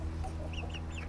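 Meat chickens on a small farm clucking and chattering close by, several short overlapping calls over a continuous low background hum.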